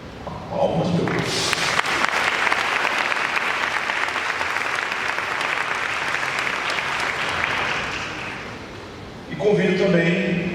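Audience applause breaks out at an academic law conference as a professor is invited to give the closing lecture, sustained clapping for about eight seconds before a voice resumes near the end.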